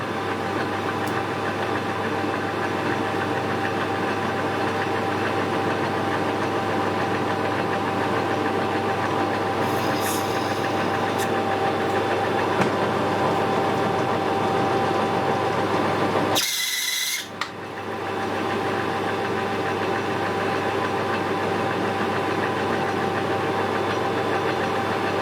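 A metal lathe cutting a 1.5 mm internal screw thread: a steady whirring machine drone runs throughout, with a brief sharp burst partway through before the hum settles again.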